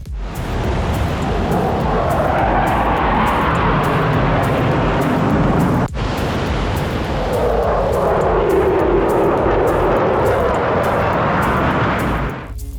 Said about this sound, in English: Telluride was supposed to have a jet flyover on that day